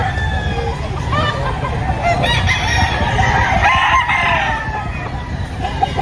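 Roosters crow amid clucking chickens at a poultry market in Lipa, Batangas, the harmonic calls rising over a constant busy din of birds and crowd babble.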